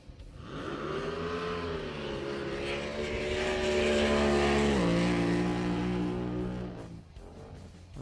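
A drag boat engine fires at the start line of a drag boat nationals final, rising to a loud, steady droning roar with stepped pitch shifts, then cutting off abruptly near the end.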